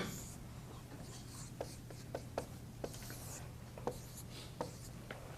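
Chalk or marker writing on a lecture-hall board while a calculus problem is worked, heard as faint scratchy strokes and light taps at irregular intervals over a steady low hum.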